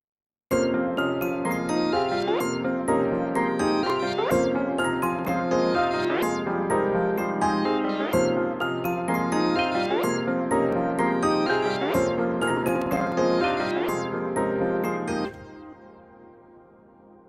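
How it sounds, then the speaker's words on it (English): Bell instrument played in FL Studio, panned across the stereo field: a steady, loud run of bright struck metallic notes with ringing harmonics over a sustained musical backing, ending abruptly with a short fade. "And here's the bell."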